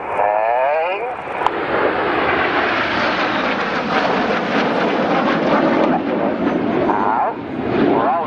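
Display team jet aircraft sweep past at an airshow, a loud sustained roar with a Doppler-like whine rising and falling as they approach and recede, a short sharp crack early on.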